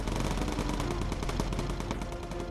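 Bomber gunners in Bomber Crew fire their machine guns in a fast, continuous rattle of rapid shots. The clatter stays dense and steady throughout and sits close in the mix.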